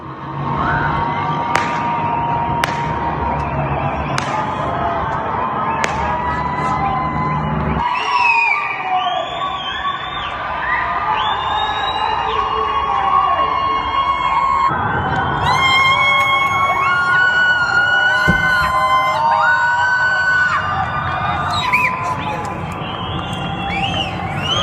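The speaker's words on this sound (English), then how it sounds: "clearly those are screams of joy. Right, you're hearing whistles, clapping," A jubilant crowd screams and whoops with joy on the ground, with whistles and scattered clapping rising through a continuous, loud, dense wall of cheering that carries on throughout.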